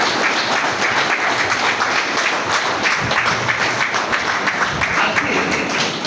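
An audience claps steadily for about six seconds at a talk on dreams, a dense, even wash of applause close and loud throughout.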